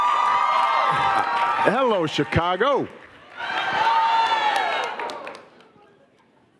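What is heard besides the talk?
audience clapping and cheering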